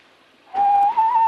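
A small handmade toy whistle blown in one sustained, clear high tone that starts abruptly after a quiet lead-in, wavers briefly, then holds steady, loud and close, with no talk over it.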